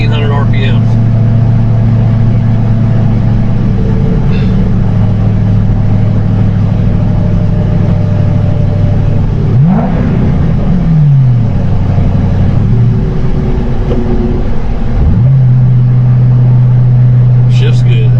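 A 2006 Ford Roush Mustang GT with a five-speed cruises at about 65 mph and 1,800 RPM, giving a loud, steady low engine drone with pitch shifts partway through and a voice speaking over it.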